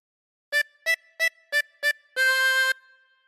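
Five short notes on a 24-hole tremolo harmonica in a steady rhythm, followed by one longer held chord, with a wavering tremolo shimmer, clear and close with no voices.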